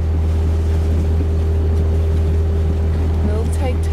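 Steady, loud low drone of a sailing boat's engine motoring at sea at night, continuous throughout with a constant hum and faint wind and water noise.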